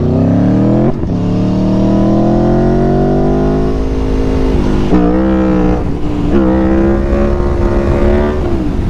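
A motorcycle engine revs hard through third gear during a power wheelie, rising in pitch, dropping at shifts near one and five seconds, then climbing again. It stays loud, close and steady throughout, with no talk over it.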